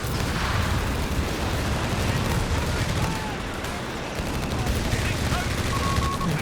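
Dense, continuous machine gun fire rattles through a Company of Heroes 3 two-versus-two battle, mixed with other battlefield gunfire while a commentator talks over it.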